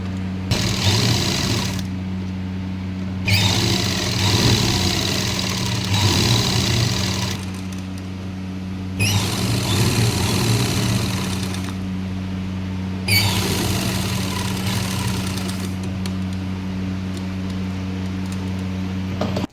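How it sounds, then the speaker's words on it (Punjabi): A sewing machine stitches the knee panels of a lined salwar in loud bursts of rapid mechanical whirring, several runs separated by short pauses, with no talking. "ਹੁਣ ਆਪਾਂ ਇਹਦੀ ਸਲਾਈ ਲਾ ਕੇ ਦਿਖਾਉਂਦੇ ਆ ਤੁਹਾਨੂੰ"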